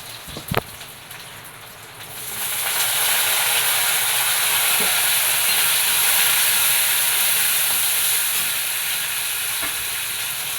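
Garlic, shallots and chilies sauté in hot oil for a brinjal curry, a steady loud sizzle that swells after a couple of seconds and holds close and even to the end.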